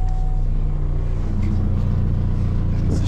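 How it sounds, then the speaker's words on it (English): A Chevy car engine idles steadily at close range, a deep, continuous low rumble with no break and no talking over it. "let me start it up. Sound good. Did not mess up the engine."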